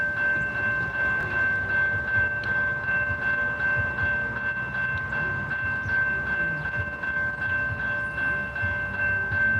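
A CSX freight train rolls past in a steady rumble, with a sustained tonal whine or horn note held throughout and no voices.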